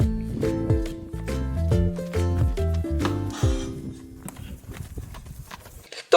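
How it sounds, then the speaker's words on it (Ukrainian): Rhythmic clip-clop of horse hooves over a tuneful melody, the steady clopping fading toward the end. "Мама кобила і лоша в нас є."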